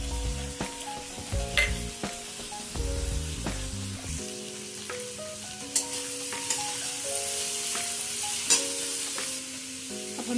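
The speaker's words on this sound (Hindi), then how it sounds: "देख सकते हैं कि हमारी सब्जी काफ़ी अच्छी तरह से भून गई है।" Aloo gobi baingan mixed sabzi frying and sizzling steadily in a pan while a spoon stirs and scrapes with occasional clinks, a constant close hiss with no talking.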